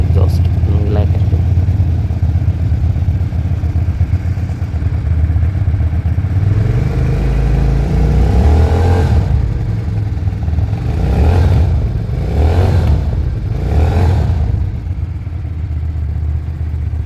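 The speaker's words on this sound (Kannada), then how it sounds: "ಎಕ್ಸಾಸ್ಟ್ ತೋರಿಸ್ತೀನಿ, ಕೇಳಿಸ್ತೀನಿ, ಚೆನ್ನಾಗಿದೆ ಎಕ್ಸಾಸ್ಟ್" A motorcycle's exhaust runs loud and close, idling with a deep steady rumble and then blipping through several quick revs, with someone talking over it.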